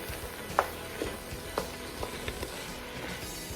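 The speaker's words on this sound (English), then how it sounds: "I went ahead and added my ham shank to this, let this fat render down a little bit in it." Ham shank fat frying and rendering in a pot while pinto beans are being cooked, giving a steady close sizzle and crackle with a few sharper pops and no talking.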